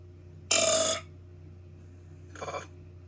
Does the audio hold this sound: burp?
yes